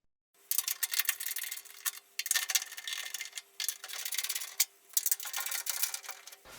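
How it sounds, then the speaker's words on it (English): A small motorized 1/4 inch driver buzzes in several bursts with short gaps while removing screws from a clothes dryer, a thin steady whine, fairly quiet and close. "Use a 1/4 inch driver to remove these 4 screws."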